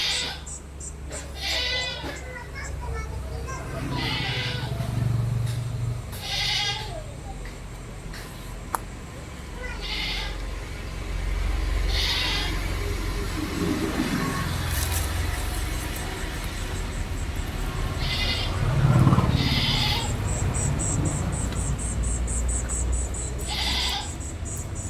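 Goats and young goat kids bleat now and then across a farm livestock sale, the calls rising over a steady outdoor background with some distant traffic.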